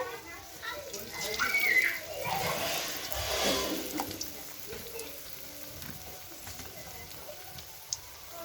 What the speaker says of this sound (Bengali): চিলি চিকেনের জন্য পকোড়াটা আমি তেলের মধ্যে এইভাবে একটা একটা করে ভেজে নেব।